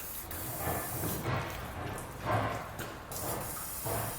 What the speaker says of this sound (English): I'm going to take some spray lubricant. I'm going to go ahead and spray down both sides now